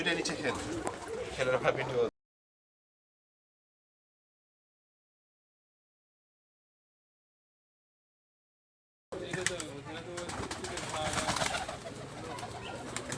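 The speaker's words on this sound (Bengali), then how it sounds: "এই এক জোড়া কবুতর দেখলাম মার্শাল্লাহ খুব সুস্থ সবল কবুতর" A pair of colourful Ghonobaji pigeons at a pigeon farm in Rajshahi coos softly beneath steady talking, the sound breaking off into several seconds of total silence before resuming.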